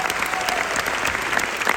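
Audience applause at the IDG Summit 2023, a brief burst of dense, steady clapping from a large crowd, loud and even throughout.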